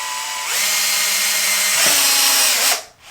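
A power drill whines loud and close as it drives a 2.5-inch pan head sheet metal screw into PVC pipe, changing pitch as the load shifts, then cuts out.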